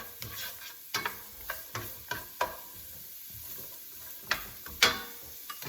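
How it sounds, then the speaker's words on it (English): Carrots sauté in hot olive oil in a soup pot for ham and white bean soup, giving a quiet, steady sizzle broken by several sharp clicks and scrapes of stirring. "I've got olive oil heating up here. We're gonna just saute the carrots a little bit."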